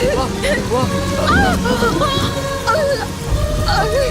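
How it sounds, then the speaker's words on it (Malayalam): Steady rain patters in the background beneath animated speech and musical tones, holding at an even level throughout. "മഴ കൂടുന്നല്ലോ."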